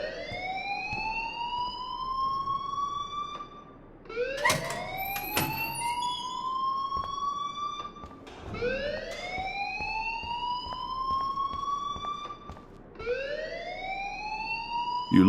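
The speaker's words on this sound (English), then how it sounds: "please turn off that alarm since that's your job" Rising, wailing alarm in the video game Life is Strange repeats about four times, each sweep climbing steeply and then holding a steady tone, loud and close, broken by a few sharp clanks in between, with no speech.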